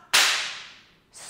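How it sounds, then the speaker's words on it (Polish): A single sharp whip crack bursts out loud and close, then fades in a long hiss. It belongs to a sleigh-style horse cart in winter frost, with no voices over it. "śwista bat"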